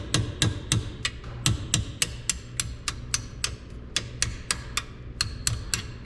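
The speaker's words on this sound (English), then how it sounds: "we're still gonna use a punch, and we're gonna pop out these pins." A hammer strikes a metal punch to drive out brake caliper pins on a Cadillac CTS-V, delivering about twenty sharp, ringing blows in a quick, steady rhythm, close and loud.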